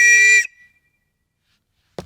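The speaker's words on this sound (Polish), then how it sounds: "mamy ten sam gwizdek, identyczny, ratunkowy" A single loud, shrill blast from a rescue whistle lasting about half a second, then silence, with a brief thump at the very end.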